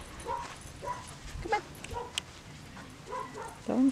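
A Standard Whoodle puppy lets out soft whimpers and short high yips close by, intermittent over quiet background noise.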